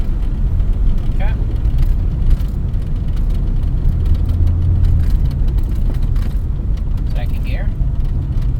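A one-owner 1984 Dodge Mini Ram, parked for 25 years, driving in gear on gravel, a loud steady engine and road rumble from inside the cab with faint squeaks.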